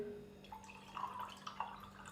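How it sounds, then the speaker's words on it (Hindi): Water poured into a glass holding ice and tamarind-plum pulp for a chilled iftar drink, a soft, faint trickle with small splashy clinks running under a quiet room. "और अभी हम इसके अंदर पानी डालेंगे।"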